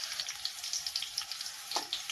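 Green chillies frying in oil in a kadhai, giving a light continuous sizzle dotted with frequent small, sharp pops and crackles at close range.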